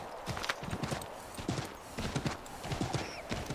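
Horse hooves in Assassin's Creed III clip-clop in quick, regular bursts, fairly close, with no talking over them.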